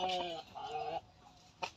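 Kaki nemali game chickens on a poultry farm near Nizampatnam cluck in a few close, harmonic bursts, with a short pause before a final brief call.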